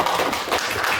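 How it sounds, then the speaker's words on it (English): A short burst of audience clapping for guests of honor, dense and even across the whole moment, moderately loud with no voices. "Let's give a round of applause to our guest of honor."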